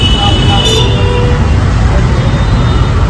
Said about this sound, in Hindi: मुंबई का ट्रैफिक